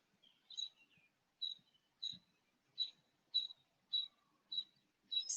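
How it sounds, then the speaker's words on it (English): Backyard birds chirp in short repeated bursts, about eight high clear calls spaced roughly every half second, faint and isolated against quiet surroundings. "You may also hear the birds chirping."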